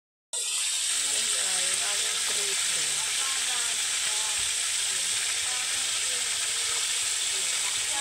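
Food sizzles and crackles in hot oil, starting abruptly and continuing loud and steady, with a faint voice beneath the frying.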